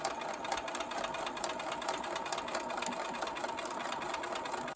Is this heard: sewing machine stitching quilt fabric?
yes